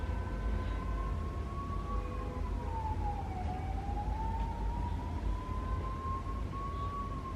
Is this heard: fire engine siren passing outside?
yes